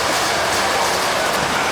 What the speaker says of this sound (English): I love the Indonesian rain